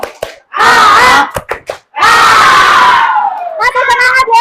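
Schoolchildren in a classroom doing a spirit clap chant together. There are loud shouted bursts of many young voices, first short and choppy, then one long sustained cheer, ending in a final rhythmic shout.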